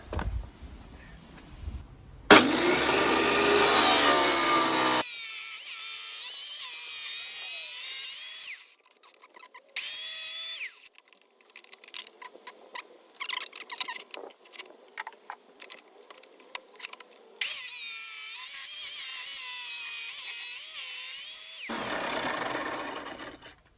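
New manual tile cutter scoring a tile, with grinding, rasping scraping strokes that start and stop in uneven bursts, close and fairly loud, separated by short pauses.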